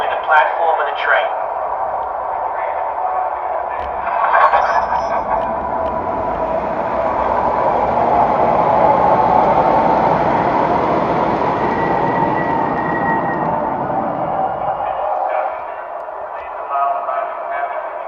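MTH model subway trains, R36, R12 and R17 cars, run steadily with a continuous rumbling, whirring drone that swells and holds, fairly loud and close, with brief clicks and tones over it.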